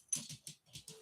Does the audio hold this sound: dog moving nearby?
yes